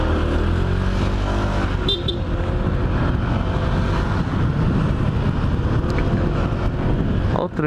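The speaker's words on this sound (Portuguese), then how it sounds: "Olha o trânsito aí, ó." City traffic near Allianz Parque as heard riding a Honda PCX 160 DLX ABS scooter, with a constant engine drone, passing cars and heavy wind buffeting on the microphone, loud and steady throughout without speech.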